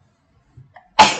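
A single sharp sneeze bursts out close and loud after a quiet pause with a faint intake of breath, set against the backdrop of a Minecraft building game.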